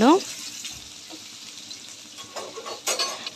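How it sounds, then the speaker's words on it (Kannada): Tomato, onion, curry leaves, coriander and chilli frying in a pan for Maggi noodles, a soft steady sizzle with a few brief stirring clatters, close and moderately quiet. "ಟೊಮೊಟೊ ಈರುಳ್ಳಿ ಕರಿಬೇವು ಕೊತ್ತಂಬರಿ ಮೆಣಸಿನ್ಕಾಯಿ ಇಷ್ಟು ಹಾಕ್ಬಿಟ್ಟು ಸ್ವಲ್ಪ ಹೊತ್ತು ಫ್ರೈ ಮಾಡಿ"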